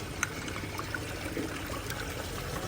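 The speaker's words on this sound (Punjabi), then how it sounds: "ਹੁਣ ਆਇਆ ਜੀ ਇੱਥੇ ਪਾਣੀ ਭਰਨ। ਕੇਨ ਖਾਲੀ ਸੀ, ਮੈਂ ਕਿਹਾ ਚਲੋ ਪਾਣੀ ਭਰ ਲਈਏ।" Tap water running steadily into an empty can in a village, a continuous close pour with a faint trickling hiss and no voices.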